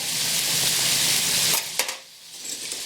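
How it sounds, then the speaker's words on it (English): Hamburger meat sizzles and fries loudly in a pan with a bright hiss, then a clatter of stirring or a utensil knock cuts in and the sizzle drops quieter. "I'll bring you back when this hamburger is more sizzled up and stuff."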